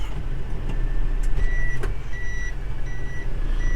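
A large vehicle's reversing alarm beeps in regular spaced tones over a loud, low diesel engine rumble, with a short clank partway through.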